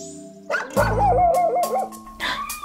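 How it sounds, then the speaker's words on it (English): A dog trapped down inside a well lets out a few short, close barks that slide into a whining yelp, then a brief whimper at the end. "There's a dog inside the well."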